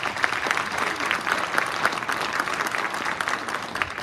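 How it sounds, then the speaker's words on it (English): An audience applauds candidates at a Carroll County magistrate candidate forum: steady, dense clapping from a room full of people that holds at an even level for about four seconds. "let's give them a round of applause for their work this evening"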